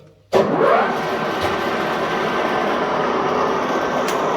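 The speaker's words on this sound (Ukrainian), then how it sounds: "Включаємо верстат." A machine tool, likely a lathe or milling machine, starts up abruptly and then runs with a steady, loud broadband hum and whir that continues unchanged to the end, with no voices.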